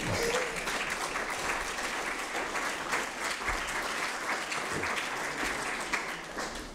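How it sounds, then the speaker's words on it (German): An audience at an academic conference on media convergence breaks into sustained, even applause, many hands clapping at moderate volume for several seconds. "Können Sie ruhig klatschen."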